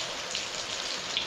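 Rain falling in the Konkan countryside, a steady soft patter of drops that is continuous and moderately faint, with no voices.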